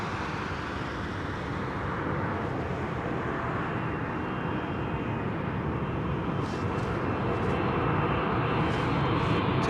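A fixed-wing aircraft taking off and climbing out at Anchorage: a loud, steady broadband engine roar holds throughout, heard from a distance with no talking.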